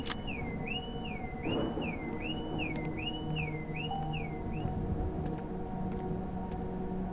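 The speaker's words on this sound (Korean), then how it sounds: "잠깐만 경보가 여기서 울리지 않았어 그죠?" An alarm in the airplane horror game Nightmare Flight wails in a repeating rising-and-falling warble about five times, then stops, leaving a low cabin hum and scattered clicks.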